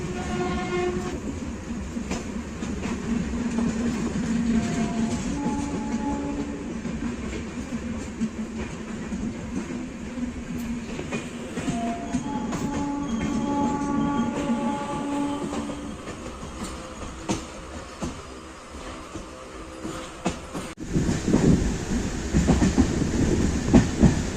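An express train, number 12509 from Guwahati to Bengaluru, rumbles past with rhythmic wheel clatter and a few long horn blasts, then the rolling noise swells louder toward the end.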